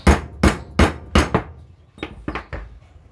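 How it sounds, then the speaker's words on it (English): A nylon hammer taps a bearing into a Heiniger Cyclone clipper handpiece, giving about eight sharp, close knocks: four evenly spaced strong blows, then a short pause and several lighter taps, with no talking. "I'll see if I can tap it down a little bit with this one notice I'm using the nylon hammer"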